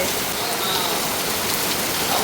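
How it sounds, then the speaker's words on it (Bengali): Rain pouring down from the sky, a dense, loud, unbroken hiss of drops striking surfaces with no pauses. "দেখেন আকাশ থেকে গড় গড়িয়ে কত সুন্দর বৃষ্টি হচ্ছে"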